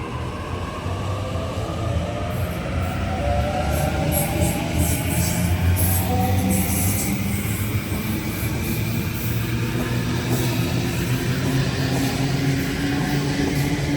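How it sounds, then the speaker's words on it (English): A Sydney train pulls into platform 1 at Seven Hills station, a continuous rumbling roar with a faint hiss that holds steady throughout, with no talking. "there's a train headed into platform number 1 now"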